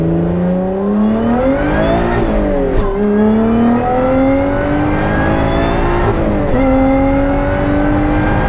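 Lotus Exige S accelerating hard on the Nürburgring, its engine note climbing through the revs, dropping at two gear changes and rising again, loud and close from inside the car.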